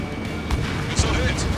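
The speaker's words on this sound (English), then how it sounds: "Missile hit." A missile strikes its target in the video game Ace Combat 7, with a couple of muffled, booming bursts rising over a constant engine-like rumble while a voice talks.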